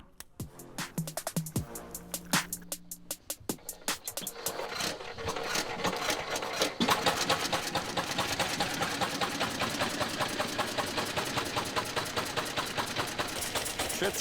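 An 1894 Benz Victoria's single-cylinder engine is cranked with a few irregular strikes, then catches and settles into a steady, loud, rapid chugging rhythm that keeps running to the end.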